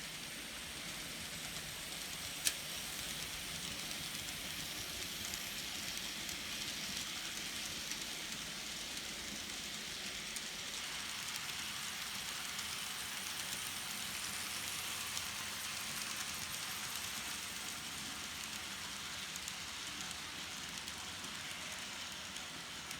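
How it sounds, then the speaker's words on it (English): N scale Kato SD40 model locomotive in Canadian National livery runs along the track with a steady, faint whirring and clicking, continuous and even throughout. "And now it's time to run some trains."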